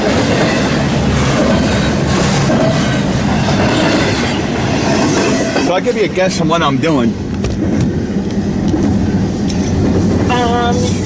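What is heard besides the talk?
train passing in Ashland, Nebraska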